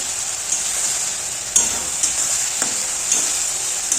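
Onions, tomato and green chilli fry in a pan with a constant high sizzle. A spoon scrapes and taps through it in occasional sharp knocks, several spread across four seconds.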